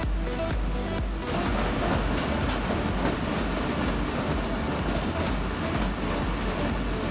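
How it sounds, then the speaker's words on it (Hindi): 203UP Jand passenger train entering a tunnel on the Jand to Attock City line, a steady loud rumble of wheels and carriages with rhythmic rail clatter, continuous and close, with no talking. "203 जंड पैसेंजर 7वीं टनल लास्ट टनल में दाखिल हो चुकी है"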